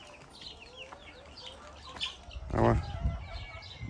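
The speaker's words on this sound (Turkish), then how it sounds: "Horoz çağırıyor." Chickens cluck close by in a garden, then a rooster lets out a loud crow midway, with a brief spoken word mixed in.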